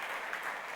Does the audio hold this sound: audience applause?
yes